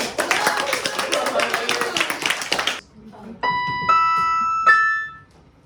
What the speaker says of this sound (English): Let's get a round of applause for Marley.